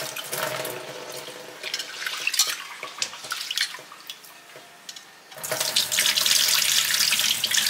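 Running tap water splashes over soaked rice being rinsed for dosa batter, a close, loud gush that softens midway, then surges back strongly.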